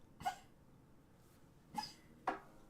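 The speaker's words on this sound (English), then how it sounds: "That's my dog." Dog makes three short, faint, quiet vocal bursts, hiccup- or cough-like, spaced irregularly against a near-silent room.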